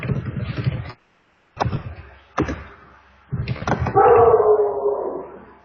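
A pet dog at home gives short yips and then a drawn-out, wavering howl close to the microphone, broken by brief pauses, with a person talking nearby.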